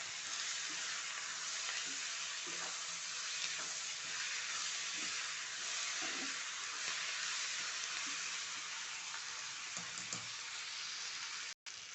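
Onion and tomato sautéing in a pan for a peas curry, a steady close sizzle with faint stirring knocks running throughout and no voices.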